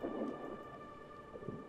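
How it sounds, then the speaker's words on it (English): Soft, steady rain hisses with a low rumble of thunder early on, under a constant faint electronic tone, in the video game Gris. "It's been raining a lot."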